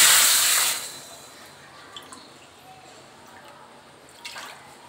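Milk goes into a pot on the stove for a malai cake: a short, loud splashing pour at the start, then quiet with a few faint drips.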